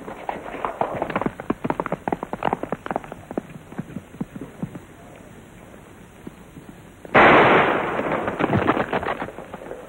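A single sharp, loud gunshot bursts out after a stretch of hurried, clattering activity, its crack trailing into a rough noisy decay.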